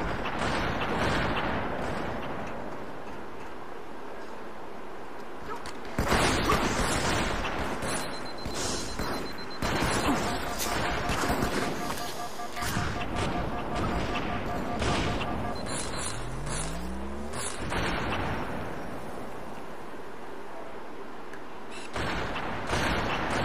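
Bursts of gunfire and explosions from an online Halo 2 match on the original Xbox, rattling volleys and booms at moderate loudness, with a player's voice talking over much of the action.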